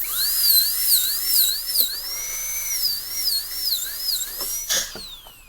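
A high-pitched dental drill whines as it cuts grooves into a typodont tooth, its pitch repeatedly dipping and rising in quick scalloped waves as pressure changes, then a brief burst of contact noise near the end, with no talking.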